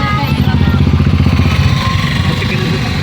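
A motorcycle engine drones close by on a rainy road trip toward Gundlupet, its steady, loud rumble filling the whole moment with a faint voice underneath.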